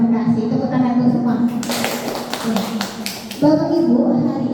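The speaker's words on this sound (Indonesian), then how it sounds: "Tepuk tangan untuk semua." A seated audience at a school training session claps hands together in a brief burst of dense, overlapping applause lasting under two seconds, with a voice speaking before and after.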